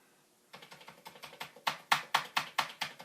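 Rapid clattering keystrokes on an old Commodore 64 keyboard that needs cleaning, about a dozen sharp taps growing louder and faster after a brief quiet start, close and alone with no talking.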